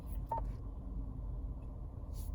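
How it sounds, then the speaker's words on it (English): One short electronic rear cross traffic alert beep sounds early, over a low, steady cabin rumble in a 2021 Nissan Versa SV. "what you just heard there was our rear cross traffic."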